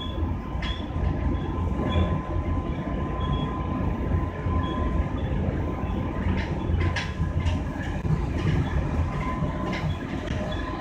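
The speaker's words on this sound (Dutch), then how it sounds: "De trein gaat nu langs Zoetermeer." A passenger train rides toward Utrecht with a steady low rumble from inside the carriage, occasional rail clicks and faint squeals, and no talk.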